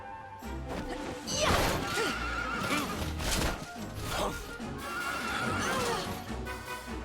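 A horse whinnies and neighs loudly in the Dragon Quest XI video game, with clip-clop hoofbeats and crashing game effects; two or three distinct neighs stand out close up over the soundtrack.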